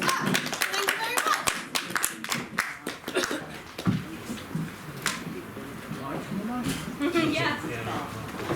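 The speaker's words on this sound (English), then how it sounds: "Give him a clap." Audience clapping at a poetry reading, a burst of many hands over the first few seconds that thins into scattered claps while people talk and laugh.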